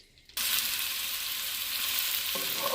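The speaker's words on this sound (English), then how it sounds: "We're going to saute these vegetables up for about 3 minutes" Chopped vegetables and fresh garlic hit a hot pan after a brief quiet moment, giving a sudden steady hiss of sautéing that holds evenly and closely, with a faint scrape near the end.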